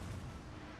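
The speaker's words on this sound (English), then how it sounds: "my 10-pounder unicorns are firing at them" A 10-pounder unicorn artillery piece fires in a video game, a single loud, close, heavy boom whose low rumble fills the whole short moment.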